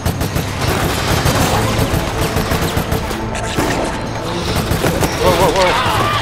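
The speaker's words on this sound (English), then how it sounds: "Heavy machine gun." Heavy machine gun fire in the Resident Evil Raccoon City video game, a dense, continuous rattle of rapid shots mixed with game effects, with people talking over it throughout.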